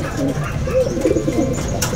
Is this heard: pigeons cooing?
yes